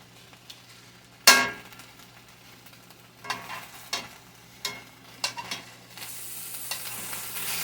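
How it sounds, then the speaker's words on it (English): Butter and vegetables sizzle in a hot skillet, a steady hiss with a sharp metallic clang near the start and several scraping stirs and taps, close and clear with no talking. "You can hear the sizzle in my skillet now."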